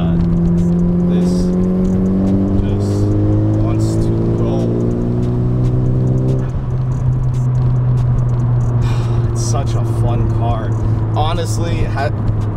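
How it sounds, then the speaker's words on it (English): A 2016+ Honda Civic at 2500 RPM in fifth gear accelerates with a loud, steady engine drone heard from inside the cabin, its pitch rising gradually, while someone talks over it. "So I'm at 2500 RPMs fifth gear"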